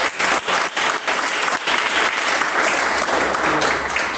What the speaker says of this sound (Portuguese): E dar uma salva de palmas bem alegre para Jesus.